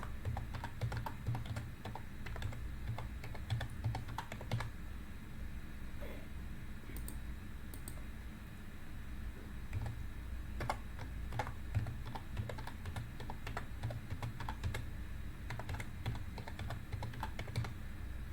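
Steady typing on a computer keyboard, a fairly quiet run of light key clicks with irregular rhythm and occasional louder taps, heard alone over a low room hum for most of its length.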